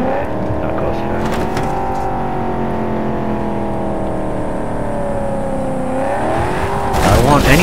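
A car engine in the video game Cyberpunk, its steady whining drone holding under gameplay and then climbing sharply as the vehicle accelerates near the end.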